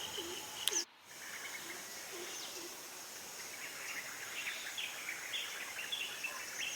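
A dense chorus of bird calls and chirps at dawn beside a lake reservoir in Tamil Nadu, layered over steady outdoor background noise, many birds singing at once from varying distances.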